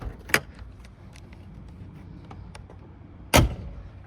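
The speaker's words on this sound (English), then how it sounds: "Doors open and close perfectly as they should." Two sharp car door thumps from a 1992 Porsche 911 America Roadster, one early and a louder one near the end, with quiet rustling and faint handling noises between them.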